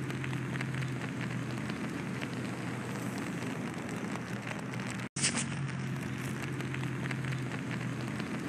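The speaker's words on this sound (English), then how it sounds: "The car is still burning." A burning car fire crackles steadily outdoors, a continuous hiss with scattered pops, briefly cut by a short dropout midway before resuming at the same level.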